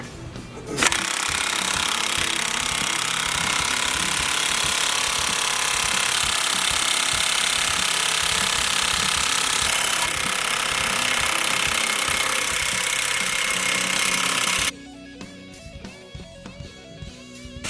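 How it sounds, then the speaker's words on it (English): An impact gun hammers continuously and loudly for about fourteen seconds while pressing a wheel bearing out of a steering knuckle, then cuts off, leaving a few faint clicks and taps. "let's get our impact gun and get her pressed"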